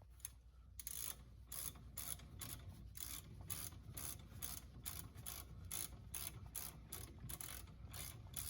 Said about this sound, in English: start threading in the caliper 18mm bolts in by hand, and then we'll use a ratchet